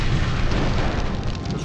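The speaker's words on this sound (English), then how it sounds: "A couple of rockets." Rockets blow up in the MechCommander Gold video game, a dense, continuous low rumble of blasts that stays loud and steady for the whole short stretch with no voices.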